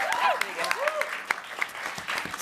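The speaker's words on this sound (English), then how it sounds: "That deserves a round of applause." A few scattered hand claps from a student debate audience break out beneath a voice that keeps talking, brief and fairly faint.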